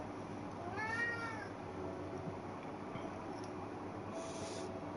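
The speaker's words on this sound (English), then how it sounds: "My cat's meowing too." A pet cat lets out a single faint meow in the room, a brief rising-and-falling cry over steady background hum, with no talking.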